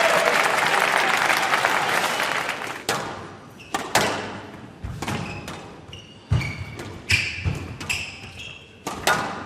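Crowd applause swells loudly at a squash quarterfinal match in Canary Wharf, fading into scattered claps and sharp thuds of the ball striking walls and racket.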